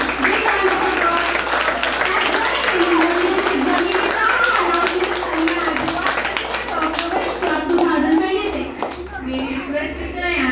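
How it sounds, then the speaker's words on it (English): School audience at a robotics expo clapping loudly for the newly announced Robotics Club president, dense sustained applause with children's voices and chatter mixed through, easing slightly near the end. "Please give them a big round of applause"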